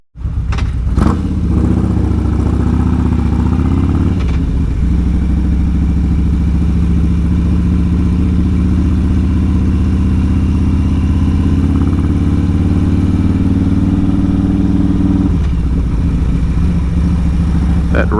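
A motorcycle rides along Main Street in the Daytona area, its engine giving a steady, loud drone with small shifts in pitch through the ride and a brief change near the middle.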